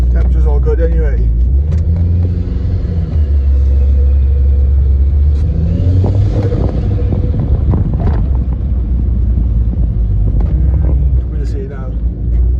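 A turbocharged Ford Escort RS2000 accelerates on a road test after a new turbo install, heard from inside as a steady, loud engine rumble with rising revs and a faint turbo whistle.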